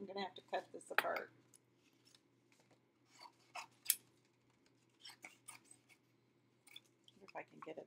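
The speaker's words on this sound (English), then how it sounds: "I'm going to have to cut this apart." Scissors snipping through a handmade alcohol ink art card, several short quiet cuts near the start and a few more later, soft and close, with faint talk around them.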